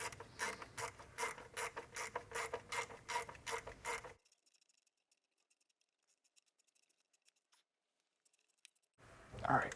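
Ratchet tightening an E8 bolt on a BMW N20 engine: a quick run of sharp rhythmic clicks close by, then near silence, then a faint voice at the end.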